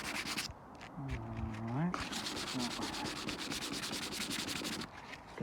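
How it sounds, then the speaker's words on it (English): Rough, steady rubbing of wet-and-dry abrasive paper scuffing the paint edges on a Suzuki Alto rear bumper, running continuously at close range, with someone speaking briefly over it near the start. "take a little piece of light, wet and dry actually, and we're just going to take the rough edges off the paintwork here"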